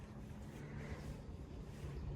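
Strong wind outdoors under an overcast sky, a low continuous rumble buffeting the microphone, fairly quiet overall with slight gusty swells and no talk.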